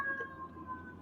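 A siren passing outside an apartment wails steadily in the background, muffled as if heard from indoors, holding a sustained wavering tone with no talking.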